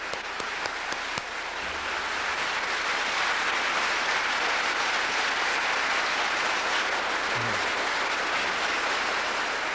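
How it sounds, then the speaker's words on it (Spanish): A church congregation breaks into loud, sustained applause, a dense wash of clapping that fills the room after a few isolated claps and holds steady to the end, with no voices over it. "Voy a pedir un fuerte y poderoso aplauso para la palabra de"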